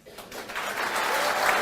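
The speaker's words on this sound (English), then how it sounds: "He got a big round of applause at the festival" A festival crowd gives the Prime Minister a round of applause at Garma festival, dense clapping that swells quickly and holds loud and steady.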